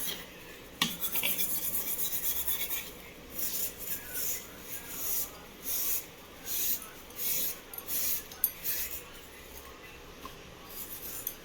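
Close, rhythmic scrubbing of a toothbrush on a brass utensil, a series of short rasping strokes with brief pauses between them.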